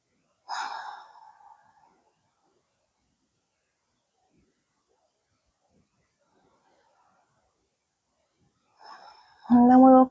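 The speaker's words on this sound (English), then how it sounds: "Just keep breathing." A person exhales audibly during a gentle in-bed movement routine for flare days and fatigue: one breathy sigh near the start, a long quiet stretch, then a voice at the end.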